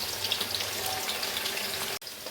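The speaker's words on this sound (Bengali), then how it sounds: "পকোড়া ভাজা এখনও চলছে" Pakoras frying in hot oil for a home birthday meal, giving a steady, dense sizzle with fine crackling throughout, close and even, cut by a brief dropout near the end.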